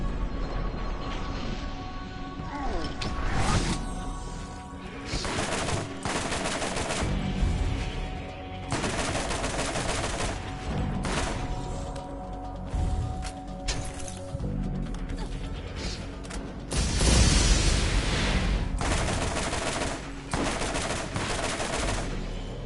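Gunfire in Borderlands 1 during a fight, bursts of shots and crashing impacts layered over game music and effects, fairly loud and continuous with a heavier cluster near the end.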